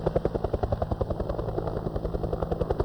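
A military helicopter flies overhead with a steady, rapid rotor thump and a low droning engine, moderately loud and alone, with no voices.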